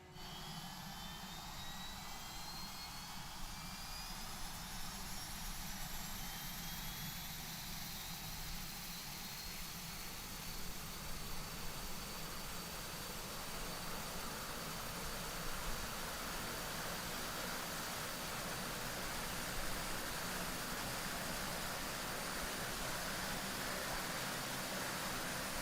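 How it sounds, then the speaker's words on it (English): Right-hand turboprop engine of a DHC Twin Otter starting in a flight simulator: a broad, steady turbine roar with thin whining tones sweeping upward as the engine spools up, continuous and even with no voices. "sounds like we got a good start of the right-hand engine"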